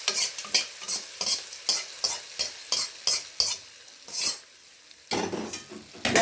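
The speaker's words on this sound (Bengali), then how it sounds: "এবার এই জিনিসটাকে এইভাবে মিক্স করে নেবো এবার চামচে।" A spoon stirs fried tempering into curd rice in a metal vessel, producing a rapid, regular series of close, loud scraping and clinking strokes, about two per second, with a brief pause and a heavier scrape near the end, no voices.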